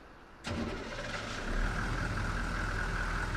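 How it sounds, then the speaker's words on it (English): A modified truck engine in a video game fires up abruptly and settles into a steady, throaty idle with a low rumble, loud and close, with no talking. "Let's go ahead and hear this engine real quick."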